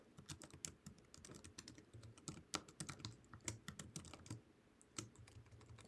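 Rapid typing on a computer keyboard, with dense irregular key clicks and occasional louder strokes, heard close and alone with no voices.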